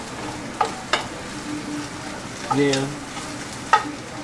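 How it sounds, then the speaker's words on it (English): Sausage simmers in a non-stick pot with a soft, steady sizzle. A few sharp utensil knocks and scrapes stand out over it, and a brief voice speaks in the background. "We let our sausage, just let it simmer in the pot, non-stick pot"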